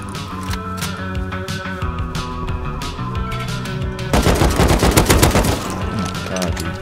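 Rapid bursts of AK rifle fire ring out in the survival game Rust, first scattered shots and then a dense, loud volley near the end, with no talking.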